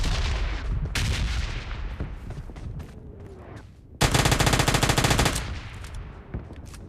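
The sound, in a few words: gunfire in PUBG Lite video game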